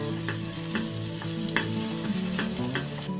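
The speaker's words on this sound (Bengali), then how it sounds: "পেঁয়াজ রসুনের সাথে নেড়েচেড়ে ভেজে নিচ্ছি" Onion, garlic and ginger frying in a pan for a Bengali masoor dal egg tadka, a steady close sizzle broken by repeated scraping strokes of a spatula as the mixture is stirred, with no voices.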